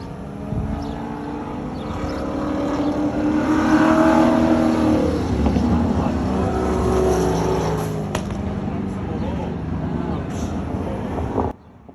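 Engines roar and rev steadily as race cars run on a track, with a Porsche pulling past close by and wind buffeting the microphone.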